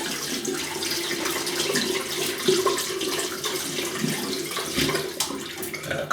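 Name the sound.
water running to wet a synthetic shaving brush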